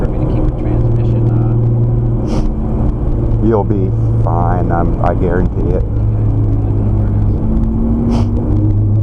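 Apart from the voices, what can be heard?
Nissan GT-R engine driving on a race track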